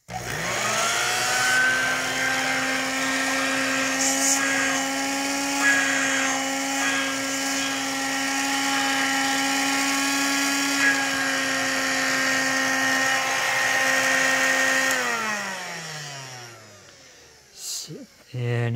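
A Dirt Devil Plus hand vacuum running on low speed, a steady loud motor whine with a strong sustained tone that rises quickly at start-up and winds down near the end, with brief handling clicks after.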